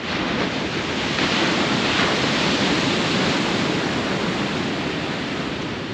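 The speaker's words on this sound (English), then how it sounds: "Tide noises, waves sometimes." Sea waves washing onto a beach on the UK east coast at Dimlington, a steady, loud, broad roar of surf and wind that keeps up without a break.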